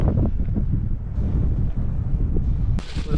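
Strong wind buffets the microphone with a low, rumbling roar that gusts unevenly throughout.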